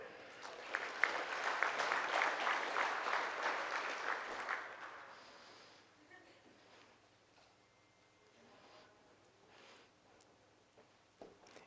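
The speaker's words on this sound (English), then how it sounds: "Keep on clapping, guys." Audience applause at the National 4-H Livestock Judging Contest awards, a loud dense burst of clapping for the first several seconds that fades into quieter room noise with scattered claps.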